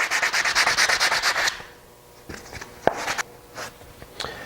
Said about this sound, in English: I'm just going to do that really quick with some 80 grit sandpaper.